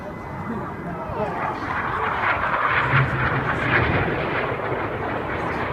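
Red Arrows aerobatic display jets pass at an air show in Llandudno, a steady broad engine roar building and holding, heard under a commentator's continuous talk over a loudspeaker.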